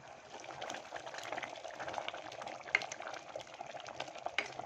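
Brinjal and cleaned dried fish curry boils in a pot, a faint continuous bubbling simmer with occasional small pops, with no voices.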